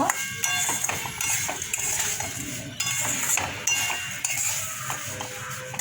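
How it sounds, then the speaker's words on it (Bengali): Fried semolina and potatoes are stirred in a pan: a soft, fairly quiet run of irregular scrapes and light metallic clinks from the utensil against the pan. "দিয়ে অল্প নাড়াচাড়া করব"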